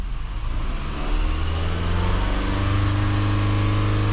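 A Mazda CX-5 engine holds a steady, loud raised idle up close, its hum rising slightly partway through after a water pump install.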